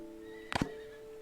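A horse whinnies once in a short, loud, shrill burst in the ancient-era city-building game Dawn of Man, against a faint steady game hum.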